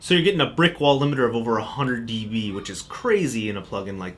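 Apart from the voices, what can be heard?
No everyday noise stands out behind the speech.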